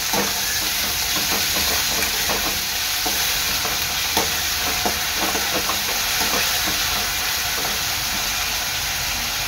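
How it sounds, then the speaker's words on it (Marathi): Onion frying with salt in a pan, a loud continuous hiss of sizzling oil with occasional stirring scrapes, close and steady throughout, no voices. "चवीनुसार मीठ टाकायचं आहे। कांदा चांगला मऊ होईपर्यंत शिजवून घ्यायचा आहे।"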